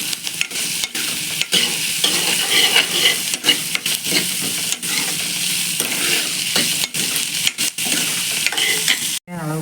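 Onions with a little salt frying in a pan for a dried fish curry: a loud, close, continuous sizzle with frequent scraping stirs and brief knocks of the spatula, ending in a sharp clatter.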